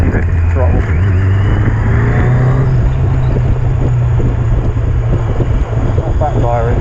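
Yamaha Fazer 600 café-style motorcycle riding with a steady engine drone, heavy wind noise and a light exhaust burble off throttle, while someone talks over it.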